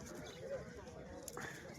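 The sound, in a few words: pigeons at a pigeon market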